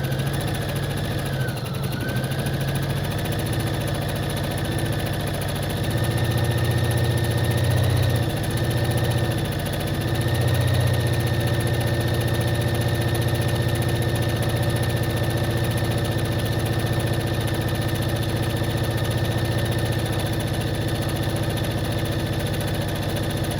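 A domestic sewing machine runs steadily, stitching closed a cami strap while finishing the bound underarm edge of a sleepwear top, a continuous close mechanical hum with slight pauses in speed.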